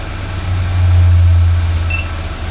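A 1995 BMW E36 318i engine runs with its cooling fan disconnected, a close, loud, low idle that swells briefly in the middle.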